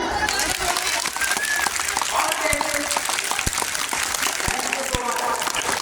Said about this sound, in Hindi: एक बार बनाओ जोरदार ताली